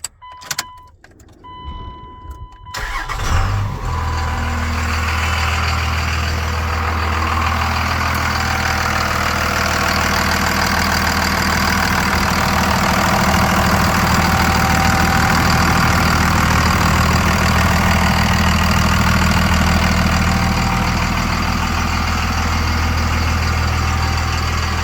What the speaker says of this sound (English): Gonna start the truck and show you the engine while it's running and walk around to the exhaust.